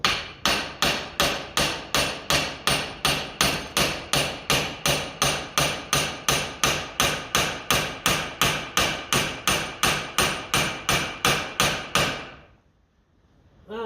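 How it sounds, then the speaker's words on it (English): A stuck socket on a Lucas D3A4 distributor is tapped with a hammer in a fast, perfectly even series of about thirty sharp metallic knocks, close and loud, stopping abruptly before a brief silence. "we'll definitely be able to tap the socket back up."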